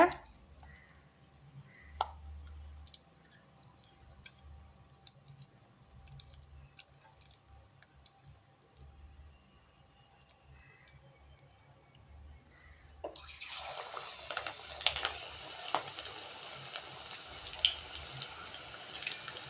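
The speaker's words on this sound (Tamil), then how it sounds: "கொத்தமல்லி தழையை தண்ணி நல்லா வடிச்சிட்டு எடுத்து வைக்கணுங்க." Water drains and drips from freshly washed coriander leaves in a kitchen, with sparse clicking drops at first before a louder, steady hiss of trickling water takes over near the end.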